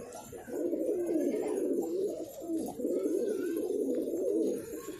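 Pigeons kept by a fancier coo continuously, a close, steady chorus of soft, throaty rolling calls overlapping one another with no voices.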